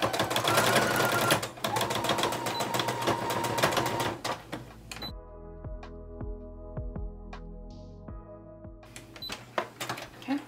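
A sewing machine stitches back and forth over a belt loop on a robe, with fast mechanical needle chatter at the start, then a quieter stretch of short intermittent clicks and thumps before the whirring picks up again near the end.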